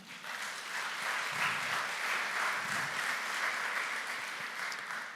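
At a business conference in Jamaica, an audience claps in a dense, steady round of applause. It sounds moderately distant, holds evenly for several seconds and then eases off slightly at the end.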